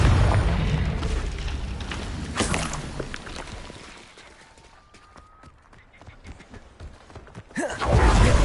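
A Confringo fire spell explodes in Hogwarts Legacy with a loud low blast at the start, followed by crackling and fading rumble, a quieter stretch, then another heavy burst near the end.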